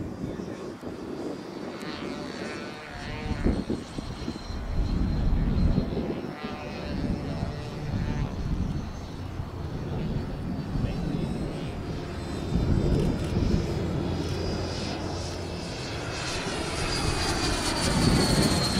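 An RC L-39 jet model with a 110mm ducted fan on 12S power makes a gear-down pass, its steady whooshing whine rising and falling in loudness as it flies past, with faint voices in the background.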